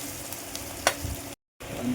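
Spinach frying in a pan in a large army-style kitchen, stirred with a steady soft sizzle and scraping, one brief clatter near the middle and a short silent gap before the frying resumes.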